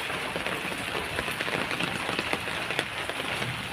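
Light rain falls steadily, a soft continuous patter of drops on surfaces with occasional slightly louder taps, fairly close and without voices.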